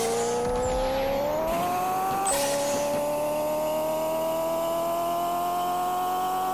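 A high-revving engine in the Pixel Car Racer video game screams past 10,000 RPM, with a loud sustained whine that climbs, briefly drops at a gear change, then holds steady.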